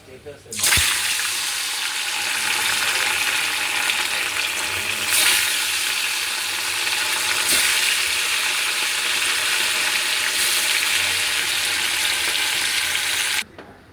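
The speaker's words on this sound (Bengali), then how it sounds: "দেখুন কড়ার তেল গরম হয়ে গেছে, মাছগুলোকে আমরা ভেজে নেব" Vetki fish fries in hot oil in a wok, a loud, dense, continuous sizzle that starts abruptly and holds steady with slight surges before cutting off sharply at the end.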